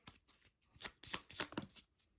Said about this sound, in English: I'm going to go ahead and shuffle this deck